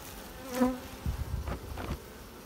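Honey bees buzz around an open hive, with one loud close pass followed by several fainter droning bursts nearby.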